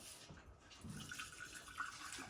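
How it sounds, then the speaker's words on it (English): Hot chicken broth pours into a warm canning jar taken from a water bath canner, a faint, steady trickle and splash for a couple of seconds. "And I'm just going to fill this up with my chicken broth."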